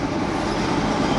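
A freight train on a Norfolk Southern line rolls past at about 30 mph, a steady broadband rumble of wagons and wheels holding constant throughout, close and fairly loud.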